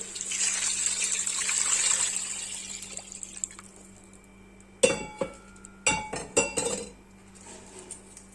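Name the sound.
water poured into cooking pot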